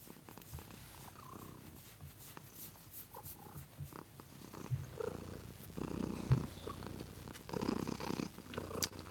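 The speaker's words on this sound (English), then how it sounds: "Are you purring?" A 19-year-old cat purrs softly and continuously up close, a gentle rhythmic rumble with small rustles.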